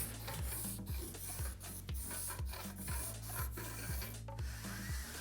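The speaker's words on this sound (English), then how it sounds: "Once you've scored right the way through that, you should just slice through quite easy with your trimming knife." A trimming knife scores an acoustic wall panel in repeated short rasping strokes, close and steady with a regular rhythm and no talking.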